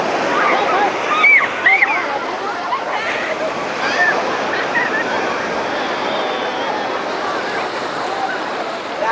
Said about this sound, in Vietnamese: nghe tiếng sóng biển nè